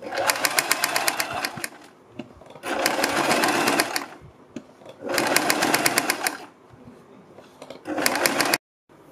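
A sewing machine stitches along a kurti neckline in four rapid, even bursts of whirring clatter, separated by short quiet pauses, close and alone.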